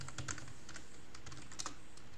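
Typing on a new computer keyboard, a quick irregular run of close, crisp key clicks in small clusters, heard alone.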